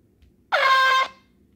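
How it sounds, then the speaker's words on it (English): A phone app plays a single loud air horn blast, about half a second long, sharp and close against a quiet background. "An air horn app."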